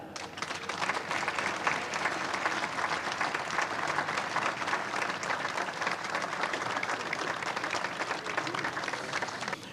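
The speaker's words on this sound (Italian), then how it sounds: "accogliamolo con un bel applauso" Sustained, steady applause from an audience at a choir festival in Castelfranco as the event sponsor is welcomed on stage, a dense, even wash of many hands clapping with no break.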